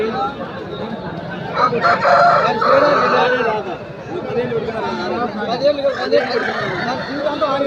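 Rooster crowing and fowl clucking amid crowd chatter at a busy livestock market, with steady voices talking throughout.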